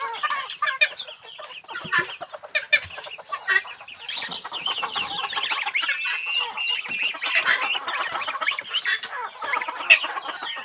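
Several hens of mixed fancy breeds cluck and squawk close by on a poultry farm, their calls overlapping in busy, uneven bursts throughout, with no talking.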